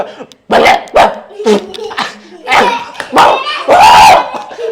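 A voice imitates a dog, giving several loud, close barks and yips in uneven bursts.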